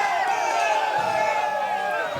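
Crowd at a college baseball game between UNCP and Shepherd cheers and whoops steadily after a play, a loud sustained roar with scattered shouts and some clapping throughout.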